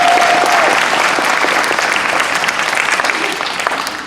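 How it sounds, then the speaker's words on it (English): Loud, dense audience applause close at hand, a continuous roar of clapping that holds steady for a few seconds and eases slightly toward the end. "How about a nice round of applause for my honey"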